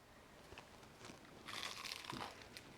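Crisp fried cod fritters (acras de morue) crunch as they are bitten into, a few faint crackles leading to a denser burst of crunching close up, with no talk.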